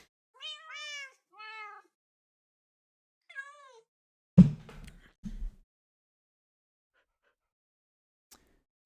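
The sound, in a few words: cats meowing in a farming video game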